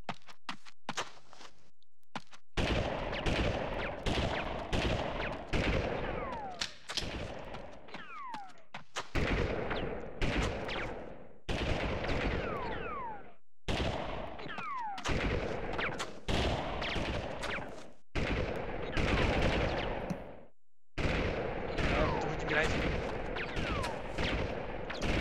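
Repeated bursts of gunfire from the PS1 game Army Men 3D, sharp loud shots in rapid clusters and single cracks, some echoing, nearly continuous with short pauses between volleys.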